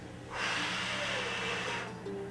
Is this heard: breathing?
yes